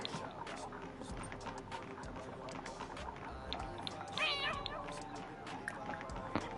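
Cat meowing in The Sims 4, several short mews scattered over busy game music and background chatter, with one clearer, slightly louder meow near the middle.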